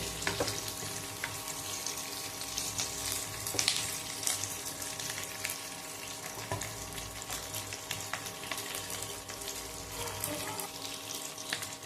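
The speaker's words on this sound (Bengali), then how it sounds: "জাস্ট তেলের মধ্যে আমি একটু ভালো করে নাড়াচাড়া করে হালকা বয়েল হওয়া পর্যন্ত অপেক্ষা করব" Eggs being stirred and lightly fried in oil in a pan for egg chilli, a steady close sizzle with broadband hiss and scattered clicks of stirring throughout.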